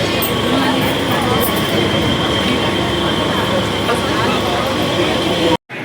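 Steady loud rumble and rattle of a moving Indian Railways local train heard from inside the carriage, continuous wheel and car noise throughout with a brief dropout near the end.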